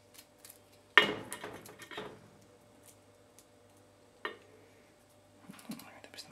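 Knife cutting the stems off Brussels sprouts on a kitchen board, a sharp cut followed by rustling leaves and a second brief cut later, faint and close in a quiet kitchen.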